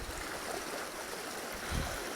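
A stream flows with a steady, faint wash and trickle throughout, joined near the end by a brief low rumble.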